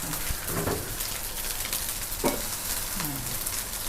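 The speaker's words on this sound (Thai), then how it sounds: "ก่อนอื่นก็ใส่น้ำปลาก่อน" Fish sauce splashed into fried rice with fried mackerel and cha-om sizzling in a hot wok, a constant close hiss with a few sharper bursts as the sauce hits the pan and the rice is stirred.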